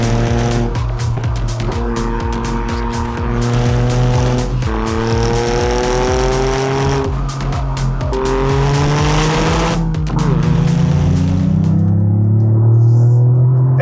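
A Toyota GR Yaris corners hard at speed, its engine droning loud and close while the tires squeal and skid in long sustained bursts, the engine note rising and falling through the turns.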